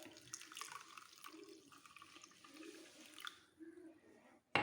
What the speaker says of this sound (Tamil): இப்போது இதில் நம்ம ஒரு கிளாஸ் தண்ணி சேர்த்துக்கலாம்.